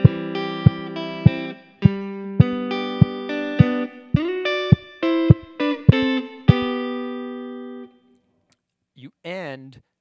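Acoustic-style guitar plays measures 5 through 8 of a song as a steady run of plucked arpeggiated notes, close and clear, ending in a pause and a brief voice.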